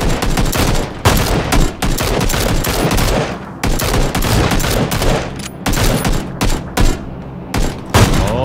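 Rapid bursts of gunfire in the PUBG battle royale game during a squad match, loud overlapping volleys and automatic shots firing almost nonstop with brief gaps.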